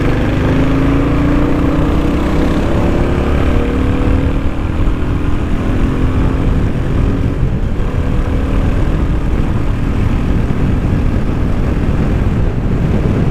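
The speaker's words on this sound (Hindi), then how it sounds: "एंड फिफ्थ गियर में जब आप इसको रिव करते हो ऐसी स्पीड पे जैसे मैं अभी चला रहा था, तो यार आवाज़ क्या मज़ेदार आती है." A 350cc motorcycle engine revs steadily in fifth gear at riding speed, a loud continuous drone mixed with heavy wind buffeting across the microphone, with no voices.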